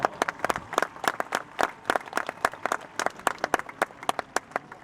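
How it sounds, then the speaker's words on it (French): A crowd at the 2014 CCI** eventing competition in Pau applauds a rider, sparse separate claps ringing out in an uneven rhythm, moderately close and without continuous talk. "applaudissez encore Karine Larazé sur son corps d'or"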